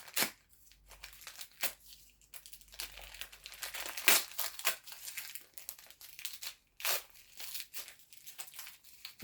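A Panini sticker pack wrapper is torn open and crinkled by hand up close, with sharp plastic crackles and tearing bursts coming in uneven spurts between short pauses.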